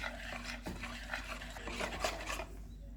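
A spoon stirs yogurt mixed with honey, chaat masala, almonds, pistachio and coconut in a bowl, giving soft, close scraping and rubbing strokes that repeat steadily at low volume.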